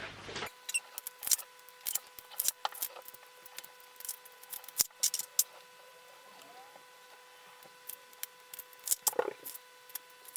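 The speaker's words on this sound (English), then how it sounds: "this one here is the little weed tool" Vinyl being weeded with a small Cricut weed tool, heard as scattered close, faint scratches, clicks and peeling ticks in irregular bursts over near silence, with no voices.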